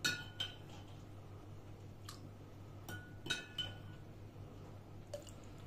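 A spoon clinks against a glass while salty water is added to water, several sharp light chinks scattered over a quiet background with faint liquid sounds.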